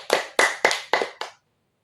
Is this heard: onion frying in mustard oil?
no